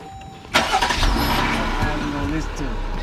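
An SUV engine cranks over and catches after a brief quiet moment, then runs loud and rough with revving that rises and settles. Voices can be heard faintly in the background.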